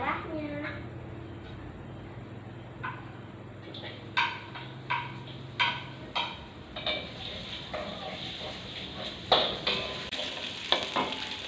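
Shallots stir-frying in a pan for a sautéed oyster dish, with a steady sizzle under repeated clinking scrapes of a utensil stirring, close and moderately loud, and a voice talking now and then.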